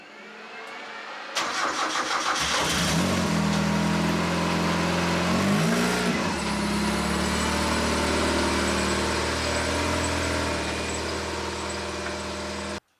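A Lotus 7 engine cranks and fires, then runs in a steady medium-pitched rumble with a brief rev as the car drives off, continuing until it cuts off at the end.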